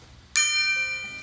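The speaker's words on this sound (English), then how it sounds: "That was such a terrible gong." A struck gong rings out with one sudden loud hit, then a bright shimmering metallic tone that hangs and slowly fades over a low background hum.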